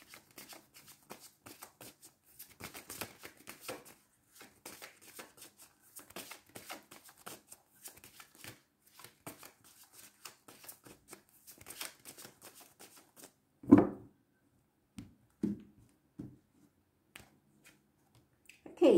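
Tarot cards being shuffled by hand: a long run of soft, quick riffling and flicking, moderately close, then a few sharper taps and slaps near the end, with no talking.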